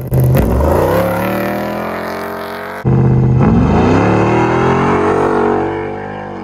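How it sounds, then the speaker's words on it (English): A Chevrolet Malibu drag car with a stock rear end launches at a night drag race, its engine roaring loud and close, rising in pitch, dropping briefly at a shift, then pulling hard again as the nitrous comes in. "I've got the car set up to leave nice and gentle and then roll the nitrous in"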